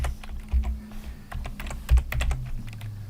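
Computer keyboard clicking close up as JavaScript code is typed, a rapid irregular patter of keystrokes with a few heavier presses, no voice over it.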